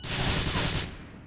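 Burst of rapid gunfire from a Grand Theft Auto IV shootout, a dense loud volley lasting about a second before cutting off abruptly.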